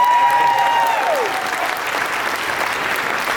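An audience applauds for Brian Scotto and Ken Block of Hoonigan at a SEMA interview event, a steady, dense wash of clapping that holds at an even level throughout, with a brief tonal sweep near the start.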